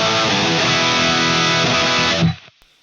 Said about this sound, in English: So here's the sound of the guitar without the room sound.